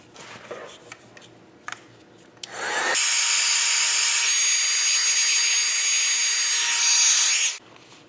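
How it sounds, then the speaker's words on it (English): A heat tool blows hot air over a wet, freshly inked stencil craft panel, a steady loud whooshing roar that starts abruptly after some faint handling noises, holds for several seconds, then cuts off. "I will take my heat tool and I'm going to thoroughly dry this panel"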